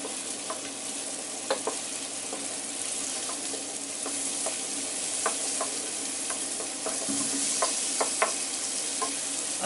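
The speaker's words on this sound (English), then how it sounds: "Going to gently cook off the onion and garlic." Onion and garlic cooking gently in olive oil, a soft, even sizzle with scattered crackles and occasional light utensil clicks, moderately quiet and close.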